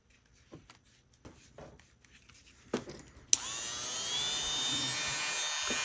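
A small rotary tool buffs inside the motor housing of a Fleischmann HO Baldwin VO switcher model locomotive. A few quiet clicks and handling noises come first, then a sharp start gives way to a steady, close, high-pitched whine.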